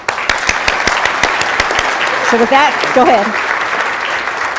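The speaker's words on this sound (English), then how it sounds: "let's give him a round of applause, because he is a combat veteran from Afghanistan" An audience at a city council and housing authority meeting applauds a combat veteran from Afghanistan, a short burst of clapping that carries on under someone speaking nearby.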